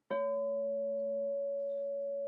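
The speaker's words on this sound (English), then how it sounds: "these bowls are basically like a sine wave, right? It's just like pure" A percussion bowl struck once rings out with a pure, sine-like tone, a sharp attack settling into a steady, clear sustained hum that barely fades over two seconds, heard alone.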